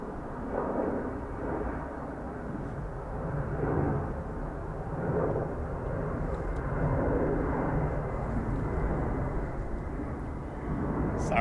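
A Ryanair airliner landing on runway 28 left at Dublin Airport gives a steady, distant jet roar that swells and fades gently across the whole stretch, with no talk over it.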